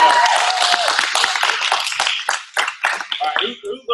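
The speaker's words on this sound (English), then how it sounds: "Clap it up for Elsie." An audience claps for a performer named Elsie at a wellness workshop, a dense burst of applause that thins into scattered claps near the end, with voices talking over it.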